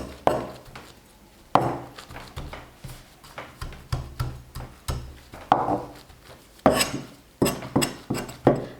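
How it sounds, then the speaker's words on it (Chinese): A kitchen knife works quickly against a warm block of homemade sachima on a board, squaring off its sides in a series of close, sharp taps and scrapes that come in irregular bursts, with no talk. "然后用刀尽量快速的，我们给它整理成方形"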